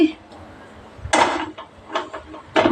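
A few metallic clanks of a cooking pot being set down on a stove, with a voice speaking quietly in between.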